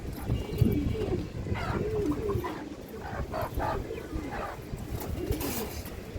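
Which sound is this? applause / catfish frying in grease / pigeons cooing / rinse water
pigeons cooing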